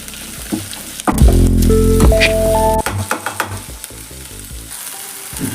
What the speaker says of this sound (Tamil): ஒரு தக்காளி கட் பண்ணி வச்சுருக்கேன் அதையும் ஆட் பண்ணிக்கோங்க